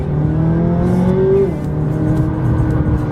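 McLaren 570S engine pulling hard under acceleration, a loud steady roar whose pitch climbs and then drops abruptly as the seven-speed dual-clutch gearbox snaps through a quick upshift, then builds again, heard from inside during a test drive in Monterey.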